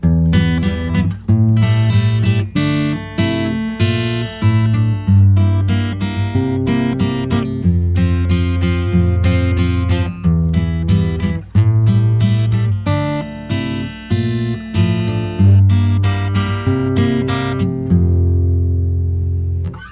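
Strummed guitar chords of the chorus of a song ring out in a steady rhythmic pattern, loud and close, with no voices.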